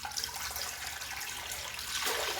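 Cold water runs from a tap into a bathroom sink filling for a shave, a steady close splashing hiss that swells slightly louder near the end.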